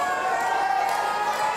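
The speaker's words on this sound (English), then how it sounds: "The crowd are calling for it. They're shouting, finish him." A live wrestling crowd in Louth in 2016, shouting and chanting for a finishing move during a match, heard as a continuous, dense roar of many voices with rising cheers.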